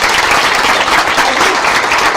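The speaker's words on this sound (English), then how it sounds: "So big round of applause for Ono." A dense, steady round of applause from a hackathon audience after a presentation, loud and sustained throughout with no pauses.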